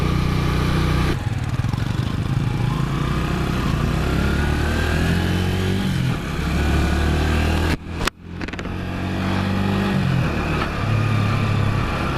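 A Sirio motorcycle engine runs loudly and continuously close by, its rough drone shifting in pitch as it revs, with a brief cut near the end.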